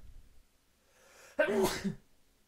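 A single sharp sneeze bursts out close to the microphone after a short inhaling breath, then fades to quiet.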